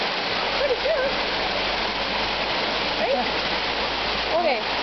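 A waterfall at a butterfly garden pours in a steady, loud broadband rush throughout, close by, with faint voices of people talking in brief snatches above the water.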